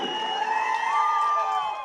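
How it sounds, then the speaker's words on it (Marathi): A crowd at an outdoor political campaign rally in Maharashtra cheers and claps in a steady, sustained roar with a faint ringing tone through it, filling the whole moment without a break. "आणि इथल्या शेतकऱ्यांच्यासाठी जोरदार टाळ्या वाजवा की ज्यांनी आपल्याला जमीन दिली"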